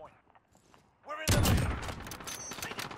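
Gunfire in Call of Duty: Modern Warfare, a loud rapid burst of shots crashing in after a moment of quieter sounds, with a voice talking over the shooting.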